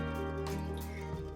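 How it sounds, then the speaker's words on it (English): Water poured into a small paint tray while clearing it for mixing, a short close trickle and fill that changes pitch as it goes. "Just get some water in there first."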